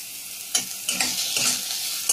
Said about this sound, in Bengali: গাজর খানিকটা ভাজা ভাজা হয়েছে